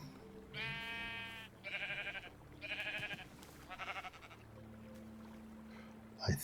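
Sheep bleat in a Minecraft modpack on an ocean island, three or four short, strained bleats in a row, fairly close and clear, with no talking.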